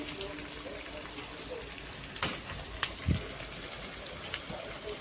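Masala with Kashmiri red chilli powder being fried down in a pan for a soybean curry, a quiet crackling sizzle with a few sharp clicks and scrapes, close by and with no talking.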